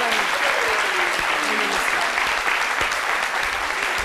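Studio audience applause on a French daytime talk show, a dense steady clapping that fills the whole stretch at an even, loud level with no pauses.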